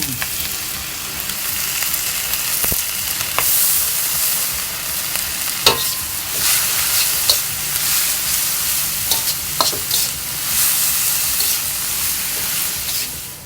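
Thai holy basil stir-fry, pad kra pao, sizzles in a hot wok, with a loud continuous frying hiss broken by sharp scraping clanks of a spatula stirring against the metal.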